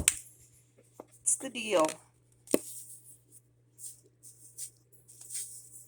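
Paprika shaken out of a new, stiff spice box while making homemade taco seasoning in a kitchen, heard as short dry rattling bursts alongside a steady low hum, with a person talking between shakes.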